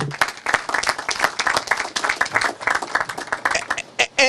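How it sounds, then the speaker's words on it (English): Crowd at a groundbreaking ceremony for a residential development applauds, a loud, dense run of clapping lasting several seconds and tapering near the end. "Give yourselves a round of applause, because today wouldn't happen without you either."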